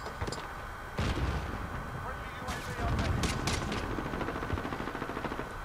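Steady bursts of automatic gunfire and booming shots ring out in the Call of Duty map Hardhat, dense and continuous, with players talking over the action.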